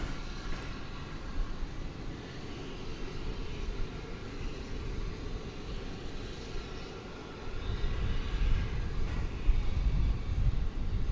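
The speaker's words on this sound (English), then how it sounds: "We've got a couple planes coming in." Airplanes pass at DFW Airport at night, a continuous broad jet roar outdoors that holds steady and swells louder in the last few seconds, with no talking.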